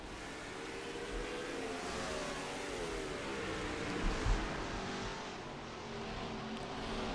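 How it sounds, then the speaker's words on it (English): Race cars in a NASCAR-style racing video game roll out from pit road onto the track, a continuous mid-pitched engine drone with revving, a brief louder rise midway, steady and without voices. "more cars coming off of the pit road"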